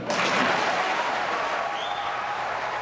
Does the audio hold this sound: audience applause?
yes